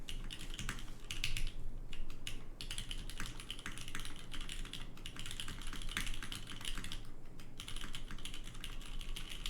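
Fast, steady typing on a custom GODSSON Dark Ex Ecliptica mechanical keyboard, crisp close keystrokes clattering in continuous bursts with brief pauses, no talking.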